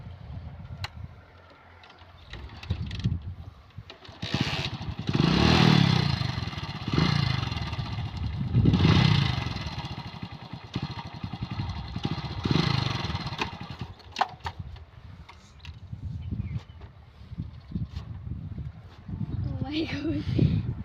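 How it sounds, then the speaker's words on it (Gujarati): A motorcycle ridden on a first attempt, its engine revving and rising in uneven bursts with clattering, under frequent talk from the rider. "તો ચાલો ફર્સ્ટ વાર બાઇક ચલાવું છું"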